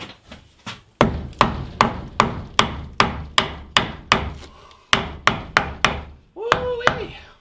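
A big hammer knocks wooden framing lumber into place for sink and plumbing walls, a steady series of about eighteen sharp, loud blows in quick rhythm with a short pause partway, followed by a brief vocal sound.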